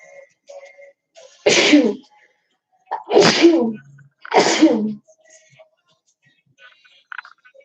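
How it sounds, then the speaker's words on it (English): Three loud sneezes close together, a couple of seconds apart, with faint soft sounds and quiet breaths around them in an otherwise still room. "I sneezed."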